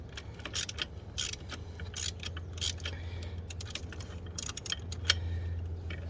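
A wrench works on a sway bar end link bolt of a Can-Am Ryker, giving quiet, irregular metallic clicks and ratcheting ticks over a low steady hum, with a voice speaking faintly.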